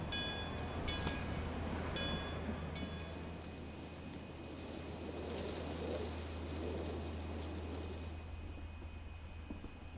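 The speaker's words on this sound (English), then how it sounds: "The train to Bellinzona." A train to Bellinzona rumbles steadily with a low hum and faint clanks and ticks near the start, a continuous quiet background in the video game Over the Alps, without speech.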